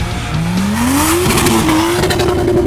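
A Zhiguli car revving and drifting on snow, its engine note climbing steeply and holding high and loud, with a harsh strained tone suggesting a worn engine and a rushing wash of noise.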